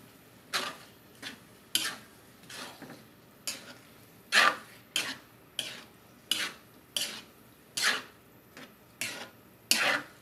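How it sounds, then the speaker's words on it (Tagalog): Seasoned food stirred in a pan, about a dozen sharp, evenly spaced scrapes and clinks of a utensil against metal repeating roughly every second over quiet background, close and clear with no speech. "Tapos, haluin."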